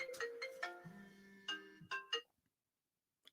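An incoming video call ringtone plays a bright, melodic sequence of tones, clear and close, ending abruptly before a short faint click.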